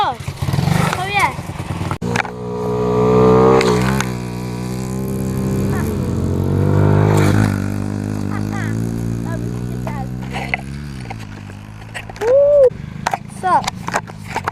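Pit bikes ride laps on a backyard track, engines revving and falling in a buzzing drone that rises and fades close by, with people talking over it throughout.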